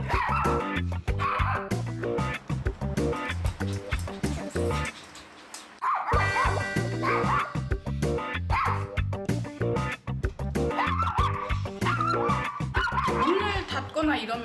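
A dog barks, yips and whimpers loudly and almost without a break, close by, as it follows its owners to the bathroom or bedroom. The outburst pauses briefly partway through.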